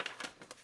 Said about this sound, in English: Let's get some shuffling going.